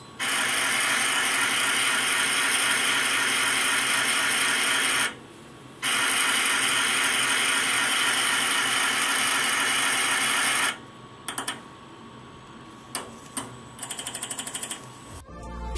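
A Siemens SINAMICS S200 servo motor whirs steadily during one-button tuning with a 720-degree rotation limit, running loud and continuous in two long stretches separated by a brief pause, followed by scattered clicks and lighter mechanical noises.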